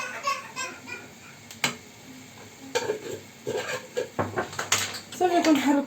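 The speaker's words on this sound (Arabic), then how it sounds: "صافي كنحركو الدجاج ديالنا" Chicken being stirred in a pot with a utensil, scraping and clinking against the metal amid soft sizzling, with a voice talking intermittently over it.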